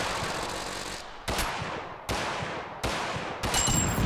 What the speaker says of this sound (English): And he has a minigun.